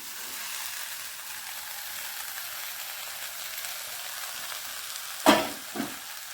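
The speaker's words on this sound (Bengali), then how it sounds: "এবার আমি এর মধ্যে ঢেলে দেবো মটর সেদ্ধ আর আলু ভাজাটা" Spice masala sizzles steadily in a pan, with boiled peas and fried potatoes being tipped in; a constant soft hiss ends in two sharp splashing bursts near the end.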